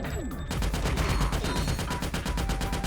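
Rapid SMG fire in the video game Ratchet: Deadlocked, a loud, dense stream of shots that keeps going for several seconds after a short lead-in, with no pauses between bursts.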